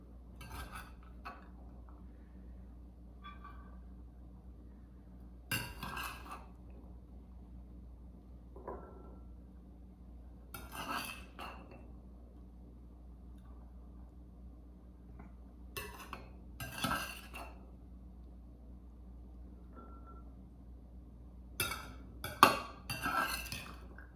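Food being portioned with a 3/4 cup scoop into dishes for a chickpea farro mint salad, heard as sparse clinks and scrapes of utensil against containers at intervals amid a quiet room.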